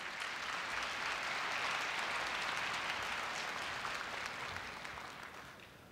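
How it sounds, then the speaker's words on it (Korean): A large audience at a Korea University entrance ceremony welcoming the university president with warm applause, a broad even roar of clapping that holds steady, then slowly fades toward the end. "염재호 총장님을 뜨거운 박수로 맞이해 주시기 바랍니다"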